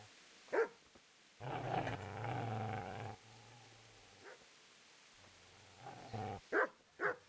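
Dog barks and growls in Kingdom Come: Deliverance, a few loud close barks spaced apart with a sustained rumbling growl in the middle, no talking.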